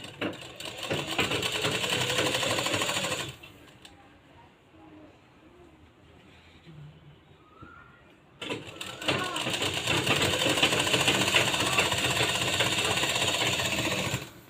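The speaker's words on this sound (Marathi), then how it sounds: "आता इथं आपण डबल शिलाई मारायची आहे" A sewing machine double-stitches a blouse in loud, rapid rattling runs, stopping for a few seconds while someone speaks quietly, then starting again at the same steady pace.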